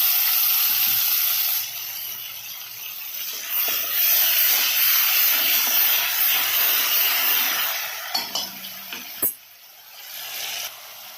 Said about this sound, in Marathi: त्याच्यानंतर याच्यात मी वाटलेले मिरची पेस्ट टाकणार आहे